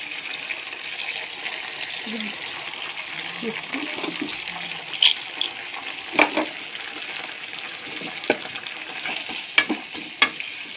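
Fenugreek leaves fry and get stirred in a pan with salt, giving a steady sizzle broken by occasional scraping clicks, heard close up with no talking.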